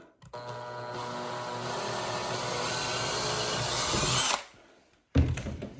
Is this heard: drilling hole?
yes